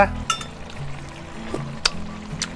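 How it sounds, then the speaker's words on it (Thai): Holy basil stir-fried in a hot pan with fried climbing perch, a soft sizzle under a steady background hum, broken by a few sharp scrapes and clinks of the spatula against the pan. "ผัดกะเพราของเราให้สุกก่อนนะครับ"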